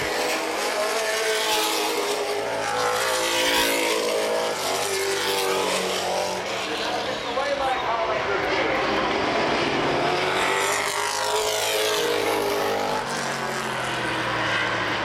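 NAPA late model race cars roaring around Baer Field Speedway, a continuous loud engine drone with passing cars swelling and fading as they go by, steady for the whole stretch.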